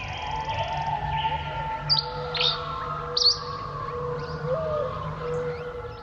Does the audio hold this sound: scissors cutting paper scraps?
no